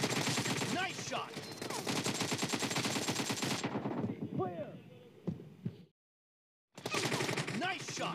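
Rapid gunfire from a mobile shooter game's team deathmatch, loud and dense bursts with short gaps, briefly cutting to silence before firing resumes; voices talk over it.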